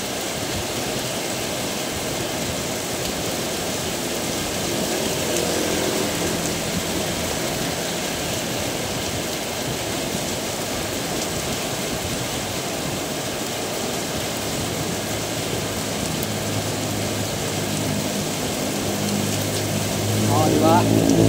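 Heavy rain pours at night in a dense, constant roar that fills the whole stretch, with people talking over it and a slight swell near the end.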